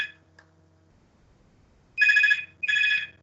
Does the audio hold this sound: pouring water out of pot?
no